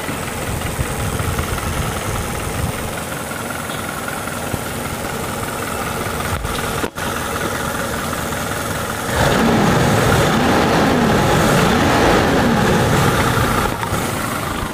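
Daihatsu Taruna car engine idling close by, a steady loud droning hum that swells slightly and grows rougher after about nine seconds.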